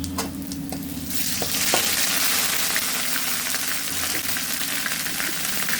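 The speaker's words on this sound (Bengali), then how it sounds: "সামান্য একটু লবণ দিলাম, আলুটা ভেজে দিলাম" Potatoes frying in hot oil with ginger paste and cumin, a steady loud sizzle that swells after the first second and holds, with faint stirring clicks.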